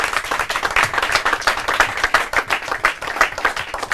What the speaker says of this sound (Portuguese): Palmas para eles.